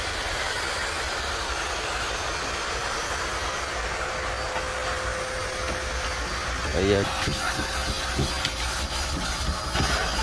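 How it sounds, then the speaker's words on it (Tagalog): Vacuum cleaner running inside a 2022 Toyota Wigo G, a steady broadband whine throughout with a person talking over it and a few bumps and knocks near the end. "ito po yung vacuum dito. Binabacuum niya."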